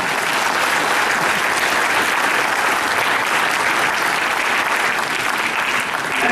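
A crowd applauds at a cosplay contest, with loud, dense and unbroken clapping that holds steady throughout, and no voices rising above it.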